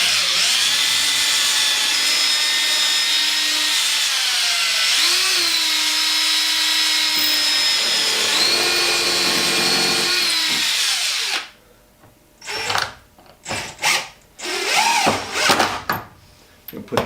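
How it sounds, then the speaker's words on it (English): A power drill whines steadily and loudly for about eleven seconds, its pitch wavering as it bites into wood, then stops and restarts in short, uneven bursts. "we're going to drill another hole right next to it"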